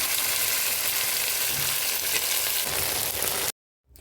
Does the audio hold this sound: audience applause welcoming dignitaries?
no